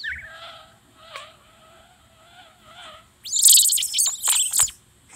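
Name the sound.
birds chirping in Old School RuneScape, from a video game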